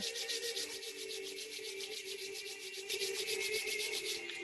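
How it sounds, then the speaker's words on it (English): Hands rubbing together during a guided grounding exercise, a steady dry swishing friction in rapid repeated strokes, close and fairly quiet, with no talking. "Rub your hands together."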